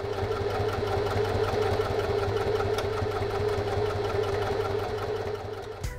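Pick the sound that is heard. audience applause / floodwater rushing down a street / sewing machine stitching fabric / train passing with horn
sewing machine stitching fabric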